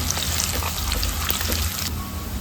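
Crushed garlic sizzles in hot oil for a Kannada mango curry, a loud continuous frying hiss with faint stirring clicks and crackles throughout.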